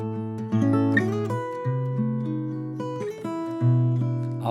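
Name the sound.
fingerstyle guitar playing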